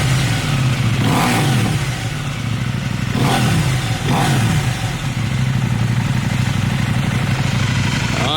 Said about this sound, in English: now you get a little bit of rumble from the exhaust